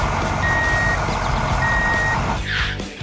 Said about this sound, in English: The tow truck backs up.